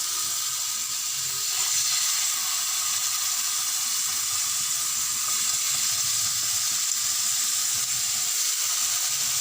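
Chicken tikka pieces sizzle steadily in a hot pan as they are laid in one by one, a dense, even frying hiss that holds for the whole stretch with faint clinks underneath and no talk.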